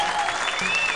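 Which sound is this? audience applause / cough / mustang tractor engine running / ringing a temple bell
audience applause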